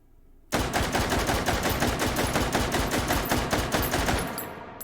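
Rapid semi-automatic gunfire from an SKS carbine fitted with a muzzle brake in the H3VR virtual-reality game, a loud steady string of roughly two dozen sharp shots that begins abruptly and runs on alone.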